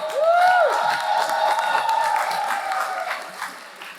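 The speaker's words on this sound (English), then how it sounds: "Let's give another round of applause to the class of 2025." Commencement audience at a STEM school graduation applauding the class of 2025, a dense crowd of clapping with scattered cheers and whoops, loud and sustained before tapering off slightly at the end.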